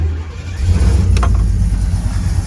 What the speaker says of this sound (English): That was a cold start.